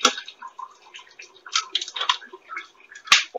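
Tap water runs and splashes over hands during handwashing, a steady patter of close drips and splashes with a brief louder knock near the end.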